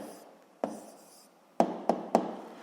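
A pen or pencil writes an answer by hand on paper, with soft scratching strokes and several sharp taps as it is set down, quiet and close.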